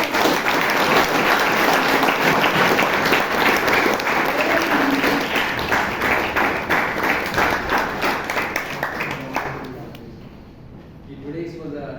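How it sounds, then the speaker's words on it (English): Audience applause at a Bangalore Toastmasters club meeting after a speech evaluation, a long, loud, dense round of clapping lasting around ten seconds before tapering off, with a voice starting to speak near the end. "Louder applause."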